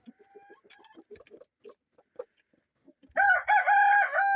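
Soft scattered clucks from chickens at first, then a loud rooster crow bursts in close by and dominates the end.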